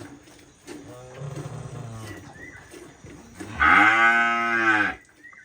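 A cow moos loudly and long near the end, following quieter low lowing earlier, in a village farm setting; a small dairy cow that gives little milk.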